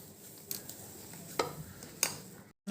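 A spoon stirs and scrapes a bread cutlet mixture in a pan, soft and low with a few sharp metallic clicks against the pan over a faint steady background hiss.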